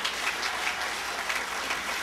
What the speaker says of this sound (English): another round of applause for the Huntington High School surf team